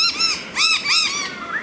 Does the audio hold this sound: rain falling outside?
no